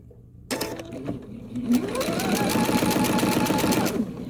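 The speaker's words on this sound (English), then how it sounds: "And now I'm going to sew my 1/4 inch seam." A sewing machine starts up and runs a quarter-inch seam on quilt pieces made from fabric scraps for a Christmas quilt. Its close, even motor whir and needle rattle speed up and hold steady.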